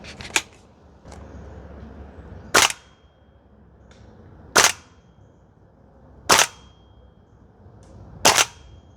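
A Toxicant XM5 Sig Spear gas blowback airsoft rifle fires five sharp single shots on a range, each a crisp loud crack spaced about two seconds apart, with faint softer clicks between them.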